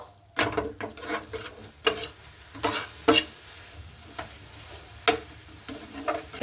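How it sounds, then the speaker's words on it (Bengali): A spoon or spatula stirs a raw papaya mixture in a pan over a low gas flame, giving irregular scraping strokes with soft sizzling between them. The stirring is close and fairly quiet, and no one speaks. "আমি অনবরত কিন্তু নাতে থাকবো গ্যাসের আঁচটাকে একেবারে কমিয়ে কমিয়ে এইভাবে নাতে থাকবো"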